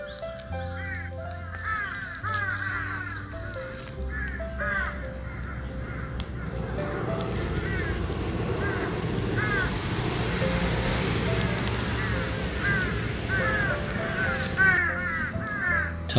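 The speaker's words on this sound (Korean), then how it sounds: "차 소리도 많이 들리고 까마귀도 오늘따라 많이 울고 있는데요" Several crows caw repeatedly in bursts near an open-field vinyl greenhouse beside a busy road in farm country, with a low rumble of passing traffic underneath throughout.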